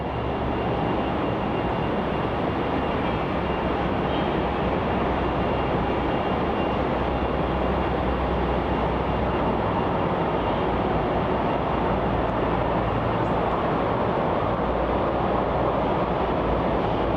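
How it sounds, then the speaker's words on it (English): An Air India Boeing 787 Dreamliner taxis onto runway 34 at Melbourne Airport, heard as a steady, loud broadband jet engine roar with a low rumble that holds constant throughout. "So that Air India 787 Dreamliner is now taxiing onto runway 34 for its departure"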